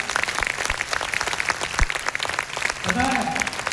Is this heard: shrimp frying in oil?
no